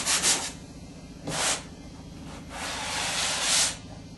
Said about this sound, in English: Be very careful when you're sanding into your angles.